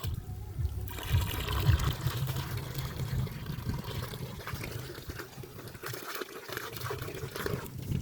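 Water trickles and pours quietly in an uneven stream, close by, with a soft splash near the start.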